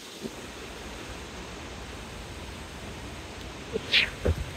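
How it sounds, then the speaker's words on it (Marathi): Heavy water flow at Kalu waterfall makes a dense, even rushing roar that fills the whole stretch, steady and broad, with a few brief louder knocks near the end. "पाण्याचा फ्लो भरपूर आहे"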